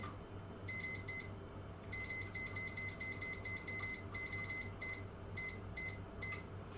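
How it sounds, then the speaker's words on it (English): A kitchen timer alarm beeps in rapid repeated bursts of high electronic tones, grouped in short clusters with brief gaps, moderately loud over a low steady background hum. "I need to put on the alarm for 25 minutes"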